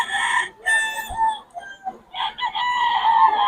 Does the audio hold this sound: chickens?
yes